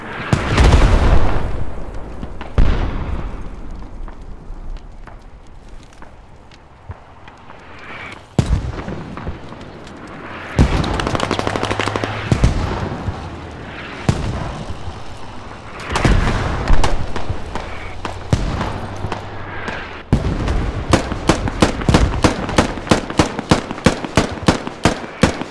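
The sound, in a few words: mortar shell explosions in Squad video game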